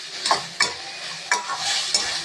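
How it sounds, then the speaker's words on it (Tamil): Chicken Maggi noodles stirred in a pan over low heat, with a few distinct scraping strokes at irregular intervals over a soft steady sizzle, close by and fairly quiet, no talking. "சிம்மில் வச்சு அப்பப்போ நல்லா கிண்டி விட்டுக்குவோம்."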